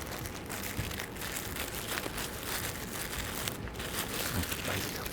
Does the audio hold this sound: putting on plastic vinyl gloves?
yes